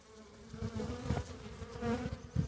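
Steady buzzing of honey bees at a hive, close and continuous, with a low droning hum and small swells in loudness throughout.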